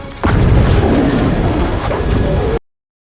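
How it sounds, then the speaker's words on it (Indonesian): Car blown up in a film scene, a loud sudden boom swelling into a sustained roaring blast of debris and rumble that cuts off abruptly. "Martin mengorbankan diri dengan meledakkan mobilnya"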